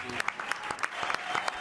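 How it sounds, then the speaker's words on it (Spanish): Audience applause on a live talk show, a short burst of scattered, distinct hand claps at a moderate level, with a voice in the background. "Fuerte el aplauso, entonces."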